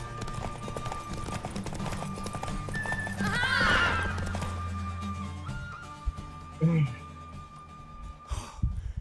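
A mare in The Witcher III neighs with a rising, shrill whinny over clip-clopping hooves and game ambience, followed by snorts; game characters speak around it.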